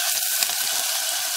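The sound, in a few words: small onions, chilli and vegetables sautéing in oil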